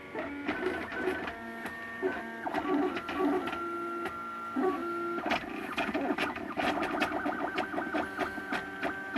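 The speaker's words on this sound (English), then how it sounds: "let's go back to the 3D printer." A 3D printer laying down the top layers of a print-in-place fidget cube, its stepper motors whining in steady, shifting tones with rapid ticking movements, close and continuous with no voices.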